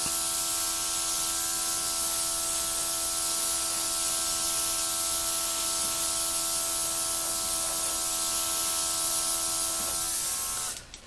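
Small air compressor driving an airbrush spraying light blue acrylic paint onto canvas, a steady continuous hiss with a faint constant whine, close and unbroken for about ten seconds before cutting off at the end.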